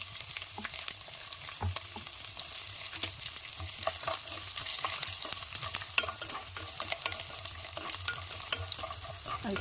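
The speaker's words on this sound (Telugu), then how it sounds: "ఎండుమిర్చి ఫ్రై అయ్యాక వెల్లుల్లి వేసుకుందాం." Garlic and dried red chilies frying in oil for a tamarind-leaf fried rice, a steady bright sizzle with scattered pops and scraping stirs running throughout, close and moderately loud with no talking.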